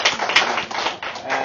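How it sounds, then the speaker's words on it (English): An audience at a book launch reading claps in a short burst of applause, with dense, close hand claps lasting about a second and a half. "let's give a round of applause for the actors."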